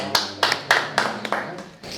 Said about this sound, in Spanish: Un aplauso, le damos